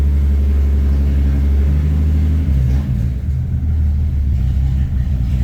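A 1965 Mercury Comet with an automatic transmission runs loud and steady at close range, its engine droning and shifting in pitch as the gearbox changes gears partway through.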